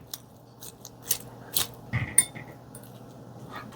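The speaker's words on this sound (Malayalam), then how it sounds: "ഇനി ഇതെല്ലാം കൂടെ നമുക്ക് നന്നായിട്ട് മിക്സ് ചെയ്യാം" Avocado toast ingredients, including salt, are stirred together in a bowl, producing sparse, quiet clinks and scrapes of a utensil against the bowl, separated by short gaps.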